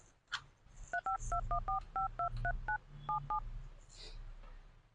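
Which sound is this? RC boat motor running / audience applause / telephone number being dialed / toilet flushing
telephone number being dialed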